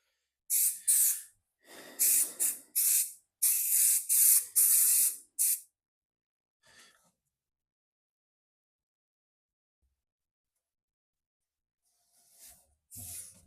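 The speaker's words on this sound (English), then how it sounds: "So let's spray some glue here." Aerosol glue sprays from a can onto headliner foam during a Volkswagen restoration, a series of close, sharp hissing bursts in quick succession, then a pause and two shorter sprays at the end.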